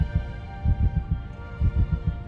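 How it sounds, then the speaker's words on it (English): The Time Lord heartbeat from Doctor Who, a steady run of deep, muffled thumps falling in close pairs over a low droning hum, loud and alone. "when we then hear the Doctor's heartbeat, it sounds like this"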